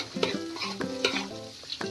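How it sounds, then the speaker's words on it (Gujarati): Cashews frying golden over low heat in butter and oil, stirred constantly, make a brisk run of rhythmic scraping clicks over a soft sizzle, with a tonal hum in the background. "તેમાં આપણે પહેલા કાજુ એડ કરીશું અને ધીમા ગેસે કાજુને સરસ ગોલ્ડન બ્રાઉન કલરના થઈ જવા દઈએ"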